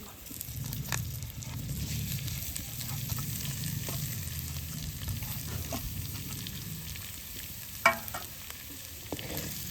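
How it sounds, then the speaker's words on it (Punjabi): Mashed potatoes with ginger and green chilli are stirred in a hot pan for aloo patty filling, a quiet continuous sizzle under soft scraping, with one brighter clack near the end. "ਤੇ ਆਲੂ ਨੂੰ ਹਲਕਾ ਜਿਹਾ ਨਾ ਅਦਰਕ ਦੇ ਨਾਲ ਤੇ ਹਰੀ ਮਿਰਚ ਦੇ ਨਾਲ ਮਿਕਸ ਕਰ ਲਾਂਗੇ"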